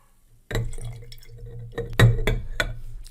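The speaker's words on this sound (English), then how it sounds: "Going to pour the vodka into the jar." Vodka is poured into a glass jar, a trickling, splashing stream with several sharp glassy clinks and drips over a few seconds, close and fairly clear, with no talking.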